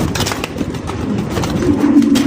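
Several pigeons coo steadily inside a cage at a pigeon farm, with low, rolling calls close up, continuous and fairly loud against a busy background.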